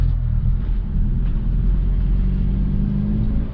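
A Hyundai Elantra N engine idles and rolls slowly while parking, heard from inside as a loud, steady low rumble with no break.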